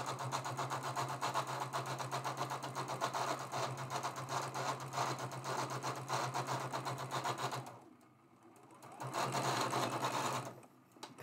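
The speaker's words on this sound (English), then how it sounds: "we're going to sew that seam with a 1/4 inch seam allowance." A sewing machine stitches a quarter-inch seam on a traditional quilt block, running steadily and fairly close for several seconds, pausing briefly, then running again.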